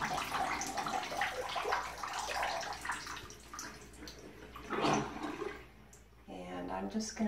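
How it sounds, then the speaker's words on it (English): Water rushes and gurgles as a tub of dye water drains after setting a shibori scarf, a continuous watery wash with a few louder surges and some faint background voices. "So I am going to drain the water out."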